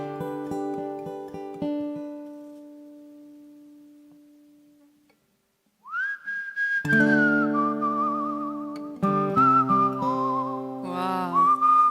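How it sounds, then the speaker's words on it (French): Someone whistles a melody on a singing competition stage, with long sustained pure notes and little trills, starting after a held instrumental chord fades out, then continuing with the band underneath. "Il siffle super"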